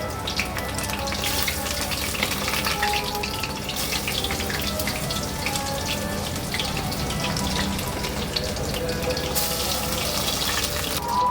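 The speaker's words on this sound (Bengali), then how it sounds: "এইরকম ভাবে পটলগুলো ভেজে নিতে হবে" Pointed gourd (potol) slices fry in hot oil in a pan, a steady, dense sizzle and crackle running unbroken and fairly loud throughout, with no talking over it.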